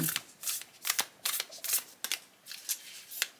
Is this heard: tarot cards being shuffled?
yes